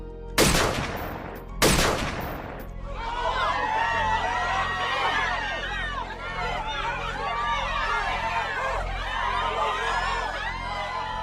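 Two sharp, loud gunshots crack close together near the start, followed by a noisy, agitated crowd murmuring and shouting, in Dealey Plaza on Elm Street during the Kennedy assassination.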